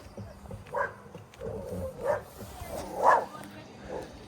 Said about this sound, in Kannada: ಇದು ನಾಯಿ